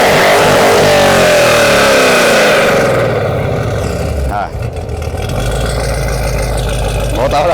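A Chevrolet Camaro ZL1 V8 engine revs hard on the throttle, a loud, close roar whose pitch climbs and falls in repeated surges, with a voice briefly heard over it.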